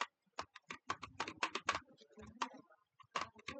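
Quick bursts of computer keyboard typing, a run of sharp clicky keystrokes in uneven clusters with short pauses, close and fairly quiet in a room.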